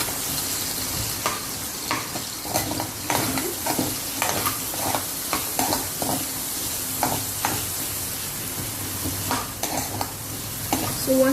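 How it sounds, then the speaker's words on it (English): Garlic cloves sizzle and fry in hot oil for a restaurant-style paneer kadai, with a steady crackling bed broken by frequent brief stirring scrapes throughout. "We put the cloves of garlic and we fry this properly."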